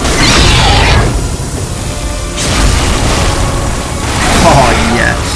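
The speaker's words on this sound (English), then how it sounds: "I'm glad I got that missile and it took him straight out." A missile explodes against Darkbeast Paarl in the video game Bloodborne, bringing loud, sustained booming blasts that swell and fade in waves over several seconds.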